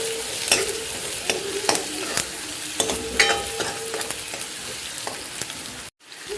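Onion with ginger and garlic being sautéed in a pan for rava idli sambar, a soft continuous sizzle broken by sharp scraping clicks of a spoon stirring, ending in a brief silence.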